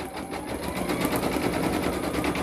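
Up close, an embroidery machine stitches a name onto a hooded towel, its dense, fast needle chatter running loud and unbroken throughout.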